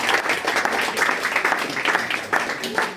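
Studio audience applause after the judges reveal their scores on a TV show, steady dense clapping throughout with crowd noise and a voice mixed in underneath.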